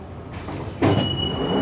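A London Underground train pulls into Hainault station at night, its rumble swelling suddenly midway and holding steady with a faint high whine, heard fairly close with no voices.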